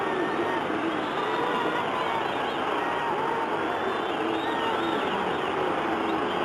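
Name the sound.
roar of the crowd at a football grand final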